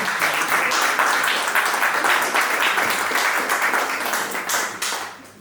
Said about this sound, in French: Et je vous demanderai d'applaudir très fort pour lui.